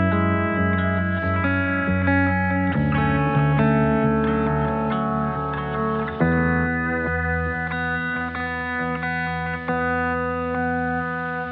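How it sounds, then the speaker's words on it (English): A freestyled electric guitar part drenched in delay and reverb plays a steady, sustained melodic line, with ringing notes echoing and overlapping into a full, continuous wash with no voices. "came up with this little guitar part and basically just rolled with it, threw some delay and reverb on it"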